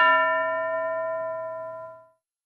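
A single bell strike in a classroom exercise rings out clearly and alone, its bright tone ringing on and fading smoothly away over about two seconds.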